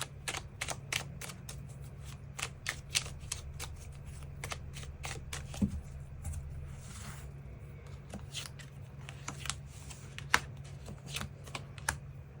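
Tarot cards are shuffled and drawn in a quiet room, giving a close, rapid series of crisp riffling snaps and flicks at an irregular rhythm over a low steady hum, with no speech.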